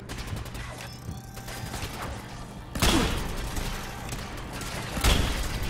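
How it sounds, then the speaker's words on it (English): Gunfire from a gun in Fallout 4 crackles amid game noise: scattered shots early on, then two sharp, loud bursts with heavy thuds, the second near the end, with no talking. "I'm shooting straight into it"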